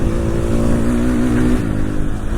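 KTM motorcycle engine held at a steady high-rpm drone while riding flat out through a wide, open desert wash, a loud continuous tone with a slight pitch shift partway through.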